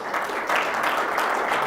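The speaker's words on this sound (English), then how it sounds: "don't applaud" Audience applause at a talk on cancel culture, a dense, steady burst of many hands clapping, loud and close, with no talk over it.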